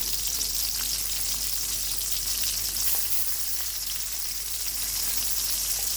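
Bitter gourd and potatoes with green chilies frying in a pan, a steady, dense sizzle running the whole time with faint scrapes as the mixture is stirred, close and even, with no voices.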